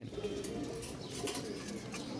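A Bashiraj pigeon coos softly in repeated low rounded calls, fairly quiet against faint background noise, with no talk.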